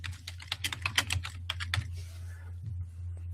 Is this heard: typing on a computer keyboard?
yes